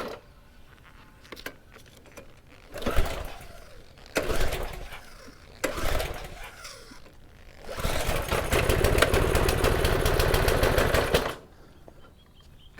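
A gas-powered generator for a pressure cleaner is pulled over in several separate bursts of sputtering. It then catches and runs loud and steady for a few seconds before cutting off.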